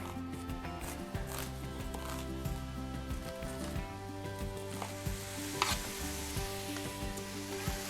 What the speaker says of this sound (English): I'm going to add my beef and let it start browning